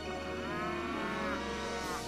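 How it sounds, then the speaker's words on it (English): Cattle mooing in the video game Okami, a drawn-out low bovine call holding steady for about two seconds over a dense, constant game soundtrack. "And I'm hearing cows?"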